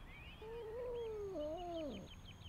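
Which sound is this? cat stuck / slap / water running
cat stuck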